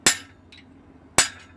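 Two sharp, ringing hammer blows on hot steel while forging a one-piece Bowie knife, spaced about a second apart, each with a short metallic decay and a faint tap between them.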